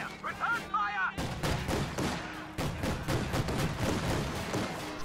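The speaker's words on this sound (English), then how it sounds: "Ready for return fire. Return fire." Video game battle with a light machine gun and a flak half-track: dense gunfire and rapid automatic bursts crackle over a low rumble, starting after a brief tonal sound and continuing with some voice mixed in.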